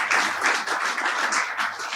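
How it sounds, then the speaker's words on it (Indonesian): Congregation applause during an Indonesian church service in Bandung, a steady two-second wash of many hands clapping at moderate loudness with no speech over it. "Berikan tepuk tangan bagi Tuhan Yesus."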